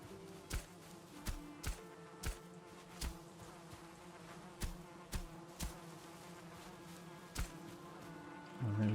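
Bees from an apiary in the video game Valheim hum steadily beneath a series of soft, regular thumps that sound like footsteps, all at a quiet level.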